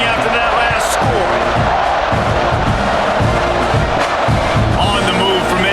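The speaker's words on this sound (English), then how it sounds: "this crowd is buzzing after that last score" A packed stadium crowd at a college football game between Auburn and Texas A&M roars and buzzes after a score, making a loud, dense, continuous wall of noise that fills the whole stretch.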